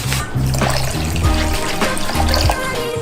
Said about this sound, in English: only now do we pour in the candy coating